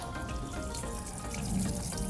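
A high volume of water rushes and sheets off freshly protected car paint, a steady splashing wash with no voices.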